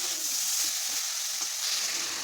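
Jackfruit and potato curry with fried prawns added, bubbling in a pan as a steady close sizzle, a continuous bright hiss broken by faint stirring scrapes.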